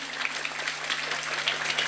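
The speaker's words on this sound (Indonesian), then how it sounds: "Saya minta tepuk tangan dulu dong buat panitianya niki" Audience at an Islamic religious lecture applauding the organizing committee, soft, fairly distant rapid clapping that stays steady over a low hum.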